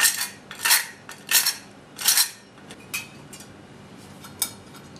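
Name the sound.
mixing sugar and spices for apple pie filling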